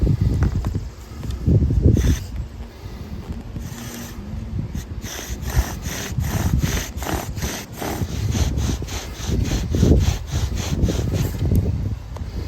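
A bow drill spins a spindle against a hardwood fireboard to make fire, giving a loud, close, rhythmic grinding rasp that speeds into quick back-and-forth strokes.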